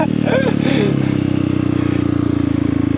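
A motorcycle engine chugs close by in a steady, pulsing low putter, with a voice speaking briefly over it at the start.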